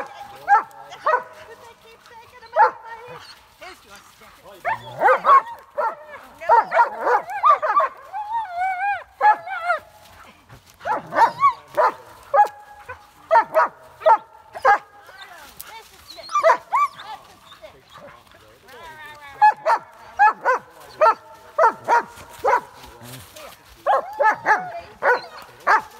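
German Shepherds bark in a forest in repeated sharp bursts, mixed with whimpers and yips. The dogs are close and loud, with quiet gaps between the volleys.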